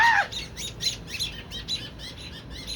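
Baby bird squawking in repeated short, harsh calls, close and fairly loud, with a steady irregular rhythm of chirpy bursts and no talk.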